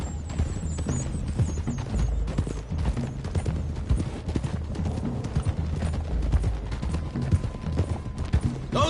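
Fast, dense hoofbeats of several horses galloping in the video game Red Dead Redemption 2, loud and continuous, with a rumbling low background and faint gunfire-like pops.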